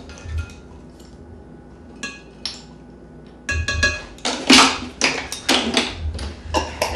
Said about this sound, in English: I always whisk my ingredients together so it blends well